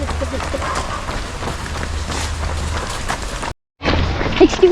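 Steady rain pours down during a 5K family road run in Argao, making a continuous broadband hiss with a low rumble, briefly cut off near the end, while people chatter nearby.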